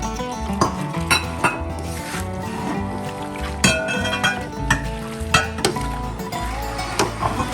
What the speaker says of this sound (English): So we're going to mix all of this together.